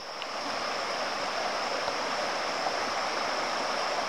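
A small river flows over a stony gorge, a steady, even rushing of water with a soft, constant hiss and no voices.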